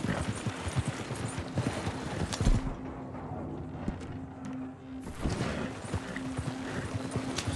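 Steady clip-clop of horse hooves walking on a hard surface in Red Dead Redemption 2, constant and moderately loud over a busy ambient background.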